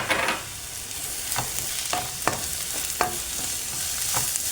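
Ingredients for chicken perattu wilt and fry in a pan, with a low steady sizzle and scattered stirring clicks and scrapes close by, and no one speaking.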